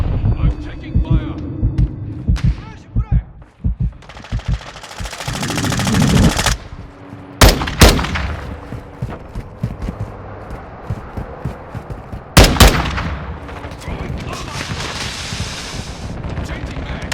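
Rapid automatic gunfire and single shots in the Modern Warfare 2 video game, with loud bursts of rifle fire, explosive cracks and battlefield rumble, while in-game voices call out between shots.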